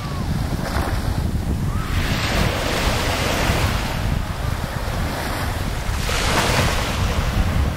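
Small Gulf of Mexico waves break on a fine white-sand beach on the Florida coast between Pensacola and Apalachicola, a continuous surf wash rising in gentle surges, heavily mixed with buffeting wind noise across the microphone.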